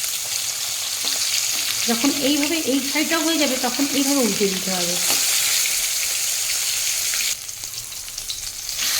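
A whole fish head fries in oil for a cabbage dish, crackling and sizzling loudly and continuously throughout while someone talks over it during the first half.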